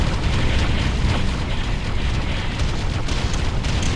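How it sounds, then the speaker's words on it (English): Artillery bombardment explosions in the video game Ground Control come as a dense, continuous roar of rumbling blasts. The low booms blend into one another and stay loud throughout, with no talking. "Area targeted for Squad bombardment."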